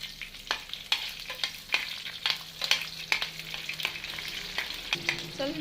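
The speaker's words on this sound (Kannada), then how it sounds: "ಬಿಸಿ ಆದ ನಂತರ ಸಾಸಿವೆ ಮತ್ತು ಉದ್ದಿನ ಬೇಳೆ ಹಾಕಿದ್ದೀನಿ ಕಾಯಿ ಮೆಣಸು ಹಾಕಿದೆ" Mustard seeds, urad dal and green chillies crackle and fry in hot oil, with a steady sizzle broken by sharp popping spatters and occasional stirring scrapes, close and moderately loud, no voices.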